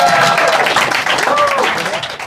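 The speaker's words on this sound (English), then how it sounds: "give it one more round of applause for our comedians of the first half" Applause for comedians at a live comedy show, a dense, loud burst of clapping from the audience with some whoops and cheering voices mixed in, tapering slightly near the end.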